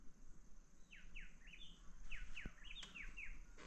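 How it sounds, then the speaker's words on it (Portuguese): A small bird sings a quick series of bright, descending whistled notes in two bursts, fairly faint against quiet outdoor background noise. "Passarinho canta."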